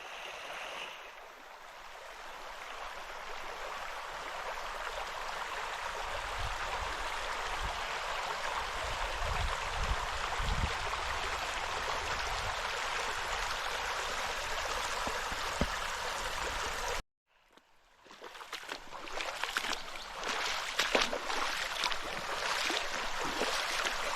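A small, cold river runs between forest trees, giving a steady, close rushing flow of water that holds for most of the stretch. It breaks off briefly near the end, then comes back with choppier splashing.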